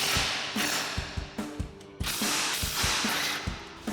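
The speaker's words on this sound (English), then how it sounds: "we're going to use our 19mm socket to loosen up our panhard bar bolts" A ratchet with a 19mm socket loosening the panhard bar bolts on a 2024-2025 Toyota Tacoma, close and loud, in quick bursts of rapid clicking with short pauses between strokes.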